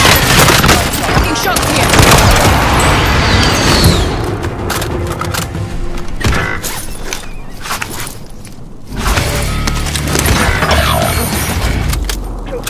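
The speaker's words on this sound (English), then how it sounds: "Friendly precision airstrike inbound." Precision airstrike explosions on Rebirth Island in the video game Warzone, a dense, continuous barrage of booms and rapid gunfire that eases briefly in the middle before surging loud again.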